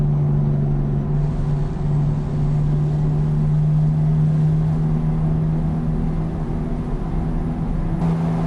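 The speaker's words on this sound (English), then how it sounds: "Yeah, the Jake brake on this is nice." Low, steady droning rumble of a truck engine in American Truck Simulator, a continuous chugging exhaust note that holds near and loud throughout with no pauses.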